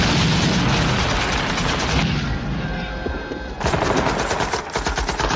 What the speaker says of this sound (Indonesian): Joker terpaksa melepaskan peluru full metal jaketnya untuk membantu rekan-rekannya mencegah musuh memasuki